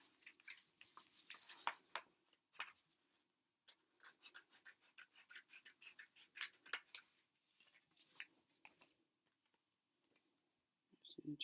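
Scissors snip through a piece of craft material along a pencil line, making a series of close, quiet, irregular cuts with short rasping strokes and brief pauses between them.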